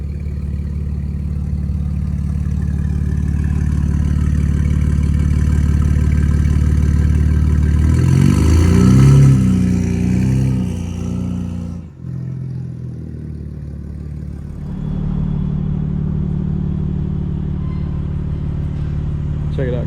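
900HP 2025 BMW M4 Competition xDrive engine heard from outside the car, a deep, loud rumble that swells and revs midway, dips briefly, then settles back into a steady throaty idle, with people talking nearby.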